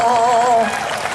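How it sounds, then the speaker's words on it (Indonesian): Applause from a church congregation at a healing crusade in Sibolga, a short loud burst of clapping mixed with a sung or held voice tone that fades partway through. "Mana tepuk tangannya?"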